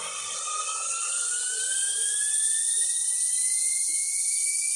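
A video game jetpack switches on with a loud, steady jet-like whine and hiss that holds for several seconds while its pitch slowly climbs, with no talking.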